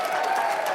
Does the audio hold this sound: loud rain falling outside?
no